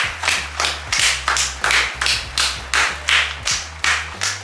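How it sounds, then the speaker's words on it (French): A small group claps for a mother in a rhythmic, fairly loud burst of hand claps, each clap distinct and evenly spaced over a steady low hum, with no talking. "vous pouvez faire un tonnerre d'applaudissements pour ma mère."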